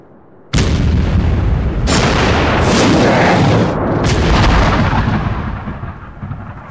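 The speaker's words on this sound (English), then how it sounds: "The British cannon switched to firing what they call canister, which are boxes with 400 musket balls in that explode when they come out of the cannon" British cannon fire canister shot in a loud, booming volley: a sudden blast, then further heavy reports rolling into a long, rumbling decay.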